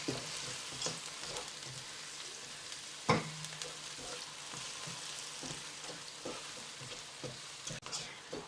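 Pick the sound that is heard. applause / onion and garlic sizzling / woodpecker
onion and garlic sizzling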